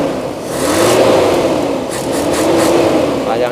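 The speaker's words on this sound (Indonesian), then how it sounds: "Coba kita tarik gas secara spontan." A Toyota Kijang engine is revved hard twice in quick succession, loud and close, with a slightly rough note from a leaking exhaust.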